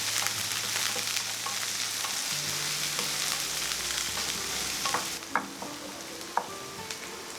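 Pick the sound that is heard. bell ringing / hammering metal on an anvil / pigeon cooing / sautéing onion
sautéing onion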